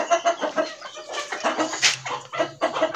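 Hens and a white rooster clucking continuously in a backyard poultry setup, a dense close chorus of overlapping clucks with one brief sharper squawk midway.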